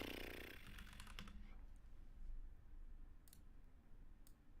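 Soft clicking of a computer keyboard being typed on, a few quick keystrokes early on and then sparse faint clicks over quiet background.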